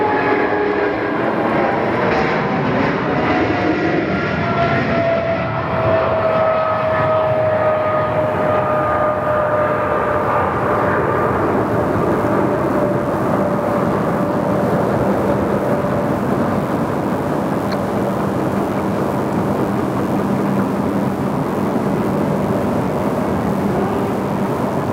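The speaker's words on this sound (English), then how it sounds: "Here we go, Singapore. Let's turn it up for you. The lovely 777." A Singapore Airlines Boeing 777 takes off from Sydney Airport, its jet engines roaring loud and steady throughout, with a descending whine in the mix as the aircraft climbs away.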